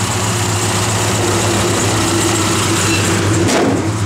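A 1968 Dodge Coronet R/T with an EFI engine runs loud and close, a steady throaty drone with a constant low hum that shifts slightly in pitch near the end.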